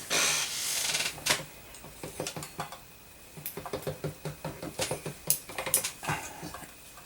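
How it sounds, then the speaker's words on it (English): Polymer clay being fed through a pasta-style clay conditioning machine, irregular clicking, rattling and knocking from the mechanism at close range after an initial rustle, no speech. "Now I'm going to put this through my machine."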